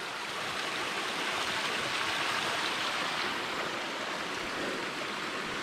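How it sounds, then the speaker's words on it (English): A mountain stream cascade on the Bartram Trail flows in a dense, constant rushing roar, loud and even throughout with no voices. "you can hear all this before you get to it, so you know a cascade's coming."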